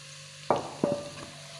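Chili and scallions are stirred in a frying pan, giving two or three quick scraping strokes over a faint, steady sizzle, with nothing else around.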